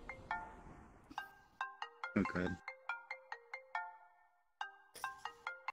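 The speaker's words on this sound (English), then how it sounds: "Choose a better ringtone, goddammit." A phone ringtone plays in the VRChat video game, a bright repeating electronic melody of short tonal notes that rings on for several seconds, with a brief burst of noise and a single spoken word in between.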